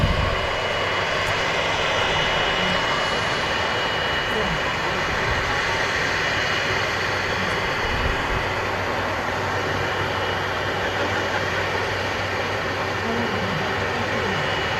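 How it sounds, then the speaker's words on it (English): A KLM E2 jet at Manchester Airport gives off a continuous broad roar of jet engines, steady and fairly loud throughout, with a voice speaking now and then underneath. "KLM sometimes fly the E2 jets into Manchester"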